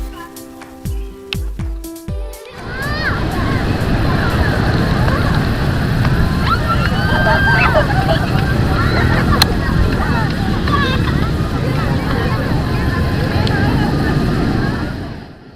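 Waves and surf roll onto a beach in South Cianjur, a dense, continuous roar of breaking water that swells up after a few seconds of quieter sounds and holds steady, with faint voices mixed in.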